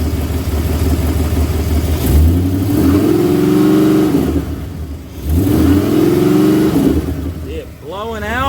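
Engine of a 1974 Ford Gran Torino Elite with a leak, revved twice from idle, each rev climbing and falling back, close and loud with a steady background hum.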